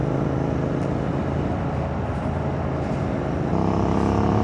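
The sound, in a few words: Royal Enfield Interceptor 650 motorcycle accelerating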